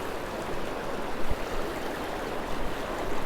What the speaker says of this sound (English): Even though the water is a little swift,